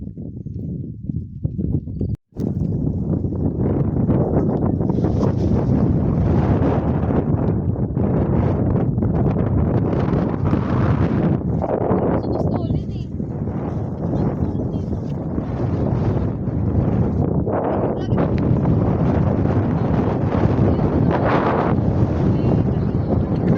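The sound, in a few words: strong wind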